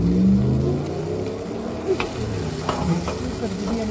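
Biryani is stirred in a pan that is too small for the stove, giving a steady close sizzle with a few sharp scraping clicks of the spoon against the metal.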